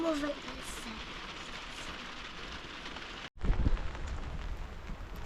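Steady rain falls on a campervan pitched wild in Istebna in autumn, a continuous hiss with a brief dropout partway, then resuming slightly louder.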